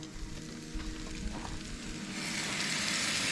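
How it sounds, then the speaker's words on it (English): Beef broth poured into a hot pot at a dispersed forest campsite, a steady hiss and sizzle that swells into a broad, rushing pour toward the end, close and continuous with no talking. "we're gonna add all of this beef broth"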